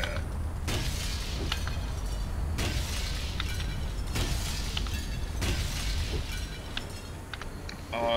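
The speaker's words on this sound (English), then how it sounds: "I love smashing windows." Windows smashed in the Real Heroes: Firefighter game: a series of loud glass shatters and breaking crashes, about five distinct bursts spread evenly over a steady noisy background, with no talking.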